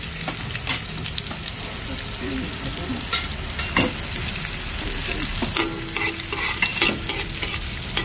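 Onions fry in a pan with a loud, constant sizzling hiss, punctuated by clattering scrapes and taps of a utensil stirring close by; a brief voice is faint under the cooking.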